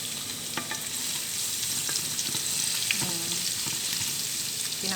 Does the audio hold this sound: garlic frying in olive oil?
yes